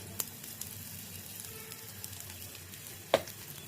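Asafoetida powder is dropped into hot oil with fenugreek and mustard seeds while cooking Indian gooseberry rice, giving a faint, steady frying sizzle with a few small crackles and one sharp pop near the end.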